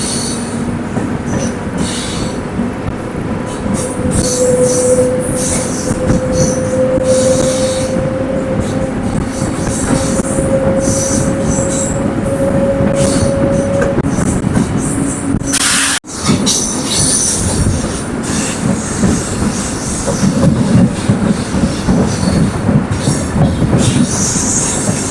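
A MEMU train on the Villupuram to Tiruvannamalai line pulls away from a station and runs on, a steady loud rumble of wheels and carriages with a rising squeal partway through and a brief dropout before the rolling noise resumes.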